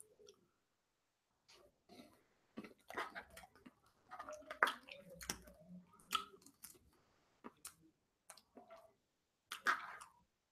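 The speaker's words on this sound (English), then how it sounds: "Have a little bit more birthday cake while I'm here" Birthday cake being eaten close to the mic, with soft squishy chewing and wet mouth sounds arriving in scattered bursts amid pauses, no talking.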